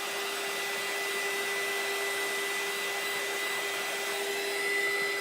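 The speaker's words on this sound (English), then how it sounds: "Or you can use a little heat gun on it." A small heat gun blows steadily on a glass jar coated with etching cream, a continuous airy whir with a faint high tone that holds level and unbroken throughout, with no voices.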